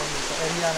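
Rain falls steadily outdoors on a hilltop at night, a continuous hissing wash with a low hum running through it, briefly heard without any speech.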